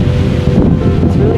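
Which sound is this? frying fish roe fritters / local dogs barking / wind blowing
wind blowing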